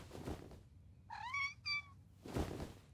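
A kitten meows in a French Polly Pocket cartoon, two short rising-falling mews close together, between muffled thumps and background noise.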